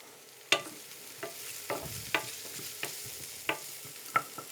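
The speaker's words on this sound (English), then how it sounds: "we're going to fry these off a little bit" Vegetables chopped into small chunks for cauliflower soup fry in a pan under a faint steady sizzle, while a spoon scrapes and knocks against the pan about eight times at an uneven pace, close and clear.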